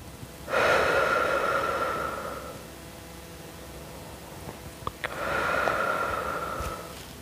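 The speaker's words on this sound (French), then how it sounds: "Inspire et expire." During a gentle stretching exercise, a person takes two long, audible breaths close to the microphone, each a drawn-out airy rush with a quiet pause between.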